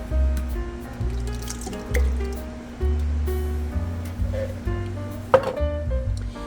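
Two 15-ounce cans of diced tomatoes poured into a pot of American-style goulash, wet plopping and squishing chunks landing in bursts, close and fairly loud, with a few clinks near the end.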